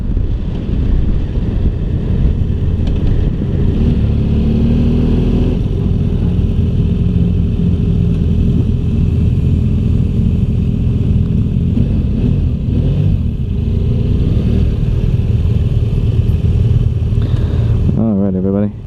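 2016 BMW F800GS motorcycle on a ride, with a loud, steady engine drone and rumbling wind noise that hold constant throughout and cut off near the end as a voice comes in.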